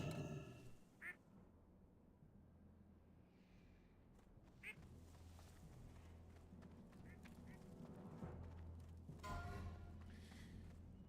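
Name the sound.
duck quacking in video game Turtle WoW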